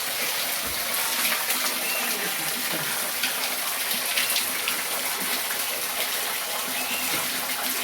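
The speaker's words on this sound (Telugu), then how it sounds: "ఇక్కడ పైన నుంచి వాటర్ పడుతున్నాయి" Water pouring down from above at a hilltop Shiva temple, a steady broadband rush and splash with faint background voices.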